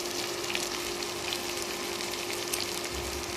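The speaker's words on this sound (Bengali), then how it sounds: "আমি সেই চিংড়ি মাছটাকে লবণ হলুদ মাখিয়ে ভাজতে দিয়ে দিয়েছি" Prawns coated in salt and turmeric sizzle in hot oil, a steady bright crackling hiss with small pops, continuous and close throughout.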